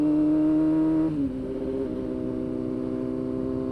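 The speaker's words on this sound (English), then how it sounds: "Get a little bit higher RPMs and shift to third." A motorcycle engine holds a steady rev, then the pitch drops abruptly as it shifts up into third gear and settles into a lower, even drone, loud and close with no talking.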